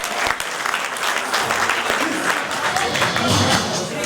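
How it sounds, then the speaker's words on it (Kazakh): Wedding guests applaud at a celebration, a dense, steady wash of many hands clapping throughout, loud and continuous with crowd murmur mixed in. "шапалақты шар ұрсаңыздар."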